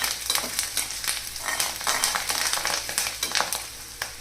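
Chopped onion and green chilies fry in hot oil, a dense, continuous crackling sizzle that stays close and loud, with no talking.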